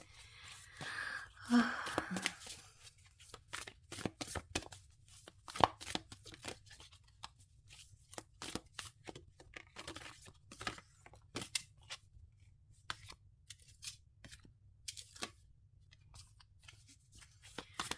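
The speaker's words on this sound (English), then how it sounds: "So, okay, let me keep on shuffling." Tarot cards are shuffled close up in a long series of quick, crisp riffling bursts separated by short pauses, with little else audible.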